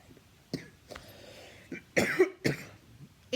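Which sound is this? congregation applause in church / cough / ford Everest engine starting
cough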